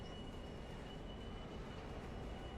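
A train rolls along in a railroad simulation game, a continuous broadband rumble with a faint high whine, steady and moderately distant with no talking.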